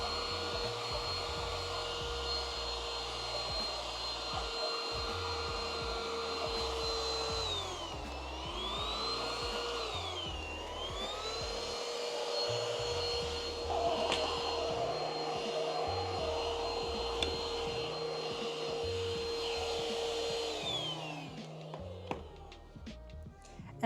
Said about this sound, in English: And then I have this super cute little handheld vacuum cleaner